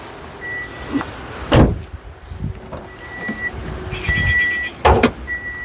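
Power windows on a 2011 Toyota Axio with a VVT-i engine, operated from the master switches: several short electric motor whines rising and stopping, separated by thumps and clicks as each window stops, recorded close inside the car.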